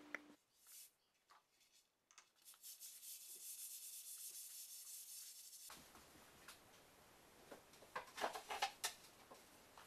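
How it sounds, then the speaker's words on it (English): Soft scratchy rubbing strokes of 400 grit sandpaper on a wooden bookcase, close and quiet, with a steady hissy stretch and scattered small clicks and taps. "give everything a light hand sanding with 400 grit paper"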